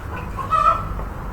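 A chicken gives a short cluck, close by, over faint farmyard background noise.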